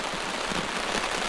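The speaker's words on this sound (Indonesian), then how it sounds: "Hujan turun lagi." Heavy rain pours during riverside camping in a forest, a dense, loud, continuous hiss of drops hammering the surface, with no other sound.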